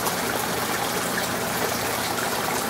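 Water drains steadily out of an aquaponics grow bed after the siphon has looped over, a continuous close trickling gush with no pauses and no voices.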